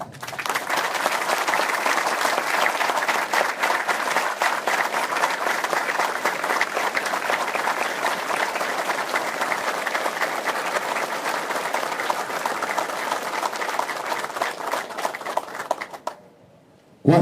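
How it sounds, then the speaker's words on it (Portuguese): A crowd at a military police hero tribute ceremony at Quartel da Luz in São Paulo gives long, sustained applause, even and full for about sixteen seconds before cutting off abruptly. "eu peço uma calorosa salva de palmas"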